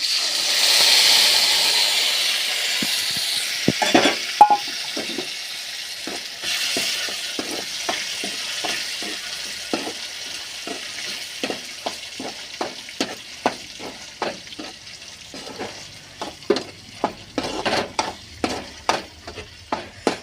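Urad dal frying in oil as a tempering for chutney. A strong sizzle at first settles into a softer hiss, broken by frequent sharp clinks and scrapes of stirring that grow more regular toward the end.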